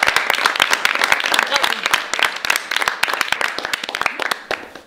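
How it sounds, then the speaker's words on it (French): Dense clapping from an audience fills the clip, steady and loud, tapering slightly toward the end. "Je voudrais que vous vous applaudissiez tous autant que vous êtes."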